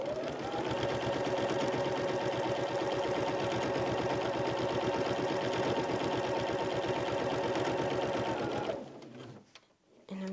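A sewing machine stitches steadily with a walking foot while quilting, a loud, even mechanical whir with rapid needle pulses that runs unbroken for about nine seconds, then stops abruptly, leaving a faint thump and near silence.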